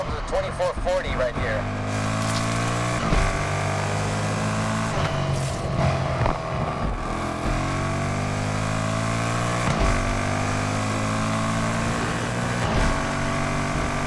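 Audi S5 engine in the racing game Need for Speed Unbound, droning loudly as the car accelerates through repeated gear shifts, each climb cut by a brief drop, with someone talking over it.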